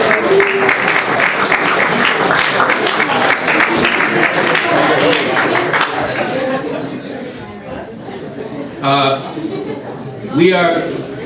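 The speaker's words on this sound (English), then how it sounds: "give them a round of applause" A crowd claps steadily for several seconds for a soccer team, then the applause fades into scattered chatter and light laughter with voices speaking.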